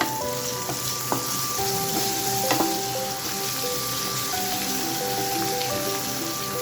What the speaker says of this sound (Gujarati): કાજુ અને મગફળીના બી આ બધું એડ કરી સરસ રીતે સાંતળી લેશું.